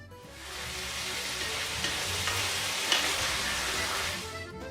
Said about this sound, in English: And now we sear it all around at high temperature, stirring constantly.